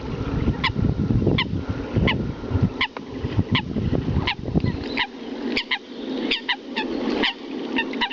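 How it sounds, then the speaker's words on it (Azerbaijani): Coots calling on Sarısu lake during a hunting trip: repeated short, sharp honking notes in an irregular series over a steady low rumble, with no talk. "O, yekə şey deyil, qaşqaldaqdır."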